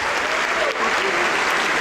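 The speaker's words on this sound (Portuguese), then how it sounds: "Vamos aplaudir mais" A church congregation applauds during a worship service, dense and steady clapping filling the space close by at an even level for the whole stretch.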